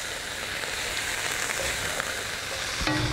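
Beef sears in an extremely hot wok, giving a loud, dense, continuous sizzle close up that flares briefly right at the end, with no talking.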